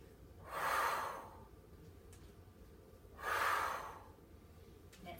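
Two slow, audible exhales during a TRX upper body workout, each a soft breathy rush about a second long, a couple of seconds apart, close and fairly quiet with no talk.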